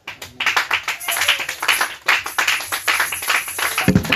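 A church congregation claps together in acclaim of the Lord, a dense, steady run of hand claps that keeps going for several seconds, loud and close, with no talking over it.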